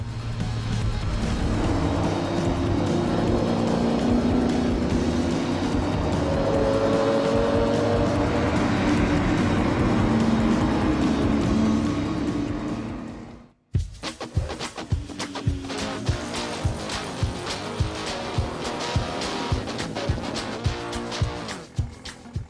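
Classic racing cars from past world championships roar steadily on a track, then a cut to a rhythmic, pulsing engine drone with repeated revving passes.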